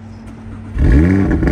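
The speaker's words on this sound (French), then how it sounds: "Tu peux nous la démarrer, frérot, avant qu'on aille faire le petit tour. On va entendre le son quand même de l'échappement" A car engine cranks and fires at about 0.8 s, settling into a loud, rumbling exhaust note with a steady idle after a quiet lead-in.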